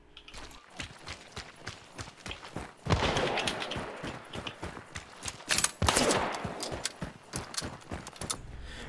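Rifle shots in Hunt: Showdown ring out one after another at a steady rhythm, each sharp crack trailing into a short echoing tail, mostly alone with little talk.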